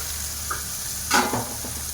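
Mushrooms and curry leaves drop into hot oil in a pan, a steady sizzle swelling into a brief louder burst of crackling and spattering, then settling back down.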